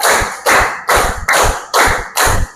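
Children clap their hands together in a classroom clapping exercise, six sharp, loud bursts of claps in a steady rhythm, each lasting about a third of a second, with short gaps between them.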